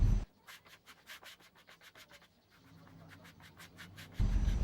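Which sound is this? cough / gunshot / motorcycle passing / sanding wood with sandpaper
sanding wood with sandpaper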